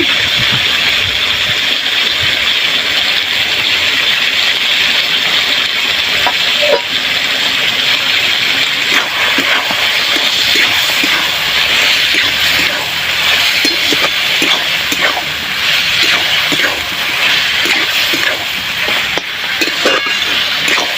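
Slit green chilies frying in hot oil for dal, a loud, continuous sizzle and crackle that holds steady throughout at close range.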